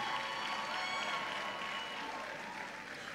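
A graduation crowd at Central University claps in a broad, continuous wash of applause, steady and fairly distant, with a faint murmur of voices mixed in and no single claps standing out.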